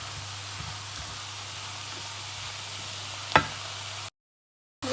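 Ground meat browning with spices and a little garlic powder in a pan for chili con carne, a steady soft sizzle with a low background hum and one brief scraping stir before a sudden cut to silence.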